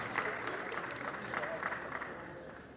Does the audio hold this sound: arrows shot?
no